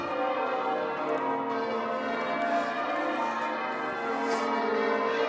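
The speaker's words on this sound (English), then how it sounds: "you can hear the bells of York Minster" The bells of York Minster peal continuously, a dense wash of overlapping ringing tones heard steadily from the street without pause.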